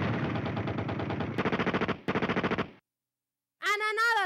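Rapid machine-gun style bursts of gunfire in a comedy skit, dense rattling volleys for nearly three seconds with brief breaks, then silence and a short tonal sound at the end.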